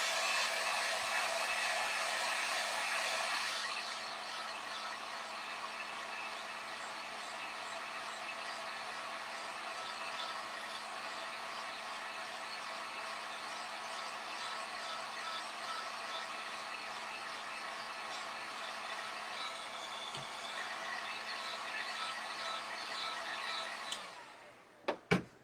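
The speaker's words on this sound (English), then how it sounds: "So I'm going to dry that with my heat gun so I don't mess it up." A heat gun blows steadily while drying stencilled paint on a scarecrow wall decor piece, a loud continuous airy whine that runs unbroken for about twenty-five seconds before cutting off, followed by a couple of faint clicks.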